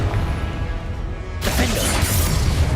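The Confringo blasting spell goes off in the video game Hogwarts Legacy, a loud rumbling game-effect texture that swells into a bright crashing burst halfway through and holds as a dense roar to the end.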